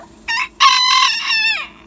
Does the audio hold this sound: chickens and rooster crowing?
yes